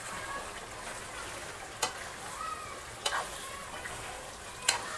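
Chicken fry sizzling in a pan with masala being stirred in, a steady hiss of frying broken by three sharp scrapes of the spoon against the pan.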